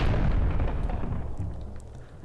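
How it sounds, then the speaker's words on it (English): A bomb explodes in Zelda: Twilight Princess with a loud, deep boom that rumbles and slowly fades over two seconds, heard alone without talk. "let's just let that bomb do its job."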